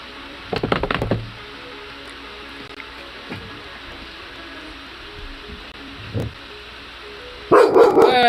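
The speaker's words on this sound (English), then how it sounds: "Why are you barking?" A pet dog barks indoors in two short bursts of several sharp barks, with a single bark between, then a loud knock or thump at the end.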